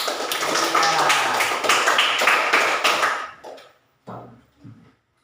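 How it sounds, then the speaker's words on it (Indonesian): A group claps together in a dense burst for about three seconds, then it fades to a few scattered thumps and brief murmurs. "Tepuk tangan untuk kelompok 3."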